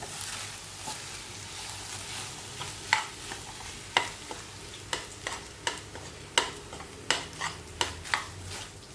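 Coconut rice mixture for narali bhaat being stirred in a pan: a spoon scrapes and clinks in a steady, rhythmic series over a low sizzle, close and clear, with no voices.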